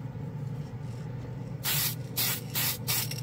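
Mr. Color spray can paint hisses out in four short bursts over a low steady background hum, close and fairly loud, with no talk.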